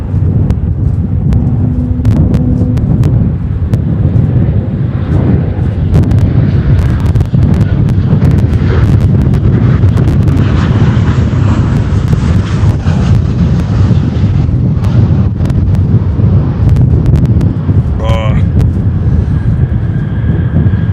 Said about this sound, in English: We have another United 737 coming in.